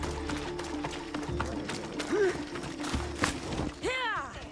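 A horse in Assassin's Creed Odyssey gallops with rapid hoofbeats, close and steady, and ends in a neigh. Talk is heard alongside.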